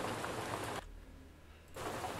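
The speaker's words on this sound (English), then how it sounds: "it's been raining and it won't let up" Rain falls steadily as a dense broadband hiss in a video game setting, dropping away briefly in the middle before returning at the same level, with no talk.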